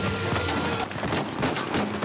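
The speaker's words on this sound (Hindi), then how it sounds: "अब बताओ इधर इतनी इतनी गोलियां पड़ रही हैं" Dense gunfire in the video game Uncharted 4, a continuous loud barrage of overlapping shots and bursts filling the whole moment with no clear break, without audible talk.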